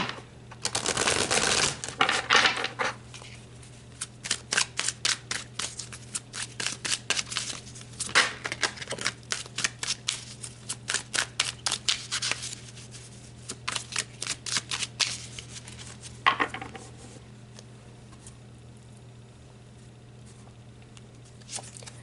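Tarot cards are shuffled and pulled in repeated bursts of crisp riffling and flicking, close and fairly quiet, with short pauses between rounds over a low steady hum.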